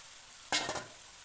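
Prawns and vegetables sizzle and are stirred in a frying pan, a brief burst of frying over a quiet hissing background, close and fairly soft.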